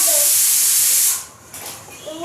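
Pressure cooker holding khichdi and potatoes in a home kitchen, venting a loud continuous steam hiss for about a second before cutting off, followed by quieter background clatter.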